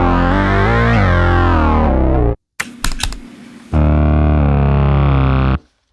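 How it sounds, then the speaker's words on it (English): An MXR bass synth pedal gives a thick, distorted synth-bass tone playing sustained notes, breaks off for a burst of clicky percussive hits, then returns with a long buzzing held note. "using the MXR bass synth on this"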